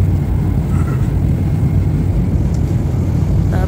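Steady low-frequency roar of an airliner cabin in flight during a long-haul trip, a loud, constant engine drone filling the whole clip with no talk.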